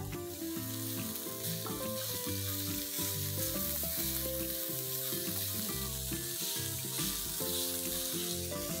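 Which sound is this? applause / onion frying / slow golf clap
onion frying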